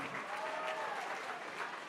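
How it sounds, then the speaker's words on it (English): Guests at a Habitat for Humanity charity auction gala clapping together, a dense even spread of applause held for the whole stretch, moderately distant, with faint voices mixed in. "give yourselves a big round of applause"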